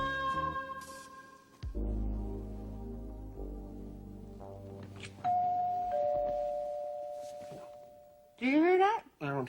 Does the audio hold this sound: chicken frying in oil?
no